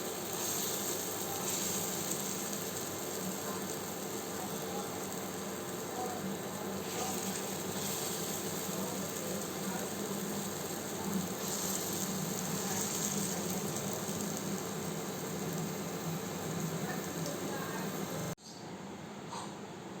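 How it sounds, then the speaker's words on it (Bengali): Lentil fritters (dal bora) deep-frying in hot oil give a steady, moderately loud sizzle that runs unbroken for most of the stretch, then drops off abruptly near the end. "বাকি বড়াগুলো এভাবে ভেজে নেব"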